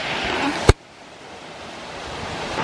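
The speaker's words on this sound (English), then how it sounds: "This is only first stage, and stages are 3 in this waterfall." Waterfall in the Caucasus, its first of three stages, giving a broad, steady roar of falling water that cuts off after a sharp knock, then builds back gradually.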